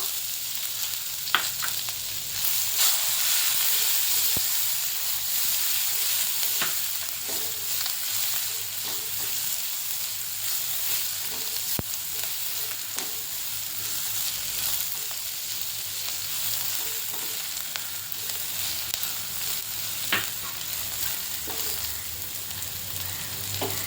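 Half an onion fries in a pan for a Malvani-style black chana usal, making a steady sizzling hiss at a moderate level, broken now and then by brief stirring scrapes and taps.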